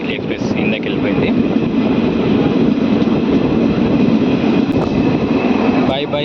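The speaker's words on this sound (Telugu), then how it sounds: "HBL నగర్ నుంచి మన ట్రైన్ బయలుదేరింది." A DEMU train pulls out of HBL Nagar station near Mahabubnagar, heard from inside as a loud, steady engine drone and rolling rumble with faint clanks, continuous throughout.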